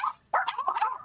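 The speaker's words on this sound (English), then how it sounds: "My 3 pet dogs have an amazing trick of no matter how many years they've known you, they will still bark at you all day long." Pet dogs barking up close, a loud short bark followed by a burst of overlapping yelps and barks within about a second.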